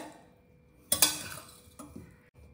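A spoon stirs cooked coriander rice in a pot, giving a sharp scrape and clatter of metal against the pot in the middle, then a few softer knocks, close and quiet with no talking.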